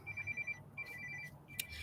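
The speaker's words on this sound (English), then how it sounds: "My phone will start ringing." A phone ringtone chirps in short repeated electronic bursts, fairly faint, with a brief pause between patterns and no speech over it.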